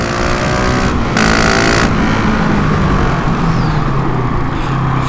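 A GasGas SM 700 supermoto engine roars loud and close, its revs cut sharply by quick quickshifter gear changes, with a brief dip and rise in pitch around each shift.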